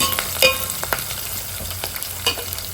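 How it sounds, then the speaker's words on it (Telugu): Curry leaves lightly fry in a pan while being stirred, a soft steady sizzle punctuated by sharp scraping clicks and taps of the utensil against the pan, close and without speech. "కొంచెం లైట్గా ఫ్రై చేసుకుంటే సరిపోతుంది."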